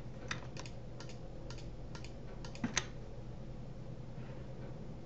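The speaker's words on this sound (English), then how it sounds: "You can add them all at the same time by holding the Control button and clicking on them" A computer mouse clicked repeatedly while the Control key is held to select several files, producing a faint string of sharp, evenly spaced clicks over a low steady room hum.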